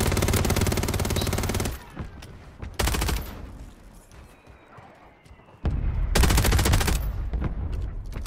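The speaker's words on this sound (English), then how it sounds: "There's guys firing to the right side of us." Enemy gunfire in a first-person shooter video game bursts out loud and dense in two long sustained volleys, with a short burst between them and quieter ambience in the gaps.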